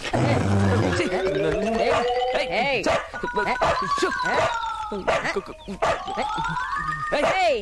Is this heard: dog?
yes